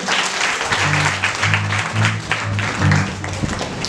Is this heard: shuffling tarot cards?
no